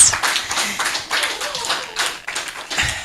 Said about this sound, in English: I think we can clap louder than that.